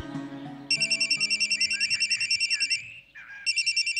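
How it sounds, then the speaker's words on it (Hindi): A telephone rings in a domestic drama scene, a loud electronic trilling warble in two bursts separated by a short pause, with faint background music underneath. "जाहिद का फोन है"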